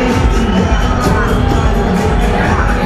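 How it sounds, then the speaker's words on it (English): Loud, dense roar of a noisy crowd at an esports event, steady overlapping chatter and cheering close by throughout the few seconds. "I'll just take you past this flurry of noise in this crowd"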